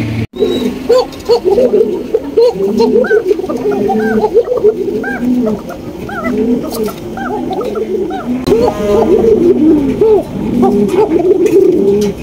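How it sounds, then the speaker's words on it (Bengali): Two pigeons coo back and forth almost continuously, a close, loud run of soft throaty rolling calls that overlap one another throughout. "এখানে রয়েছে একজোড়া ককাকবুতর। আপনারা দেখতেই পাচ্ছেন কি পরিমাণ ডাকাডাকি করতেছে"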